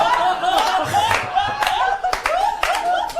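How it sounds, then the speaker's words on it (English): Scattered clapping from a group mixed with chuckles and voices, uneven and fairly close. "Big round of applause."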